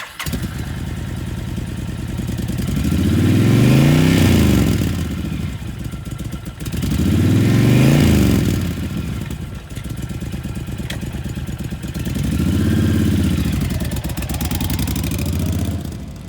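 A used 2010 Honda Fury 1300cc V-twin factory chopper revs three times in a row, each rise swelling into a loud throaty roar and falling back to a rumbling idle, close by and with no talk.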